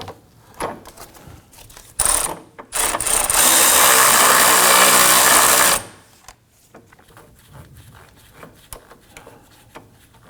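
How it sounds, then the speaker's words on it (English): A power tool runs a nut down onto the rear sway bar link of a Nissan Murano, a loud steady whirring burst of about four seconds with brief bursts before it, followed by quieter clicks and handling. "we're able to run that nut down to the point where we get to the locking collar"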